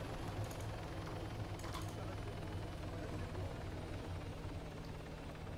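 A helicopter in the Arma 3 police roleplay mod Altis Life gives off a steady, continuous rotor and engine drone that fills the scene at an even level.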